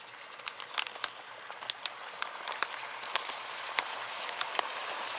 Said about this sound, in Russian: Все у нас кипит, там бурлит.